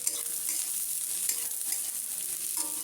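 Fried egg, beans and yardlong beans being stirred into browned onions in a pan for homemade chow mein, a bright continuous sizzle with scraping spatula strokes, close and loud, no talking.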